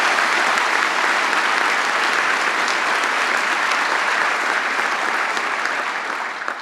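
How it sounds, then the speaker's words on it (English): Audience at an NYPD swearing-in ceremony applauds steadily, a dense, loud wash of clapping that holds for several seconds and tapers slightly at the end. "Let's give Natasha a round of applause."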